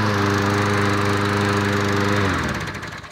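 Lawn mower engine running fast at raised RPM, a loud steady buzzing drone close by that holds for a couple of seconds, then wavers and starts to wind down.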